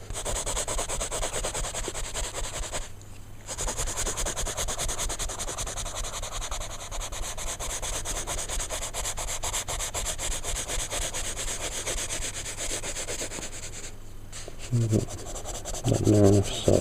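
Pencil shading smoothed out on paper while drawing a wizard, a steady close rubbing scrub that keeps going with two brief pauses, faint bumps near the end.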